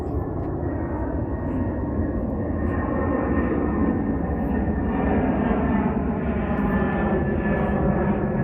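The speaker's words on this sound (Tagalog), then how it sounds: "ang aeroplano. Dinig ang tunog dito sa baba." A steady, broad engine roar of an airplane overhead at night along the seaside, heard from the ground, loud and continuous with a low rumbling body throughout.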